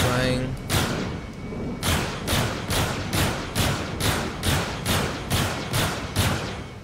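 Ship weapons in the Star Citizen game fire a rapid, steady volley of about a dozen punchy thumping blasts in even rhythm, loud and close, with a brief tonal hum at the start.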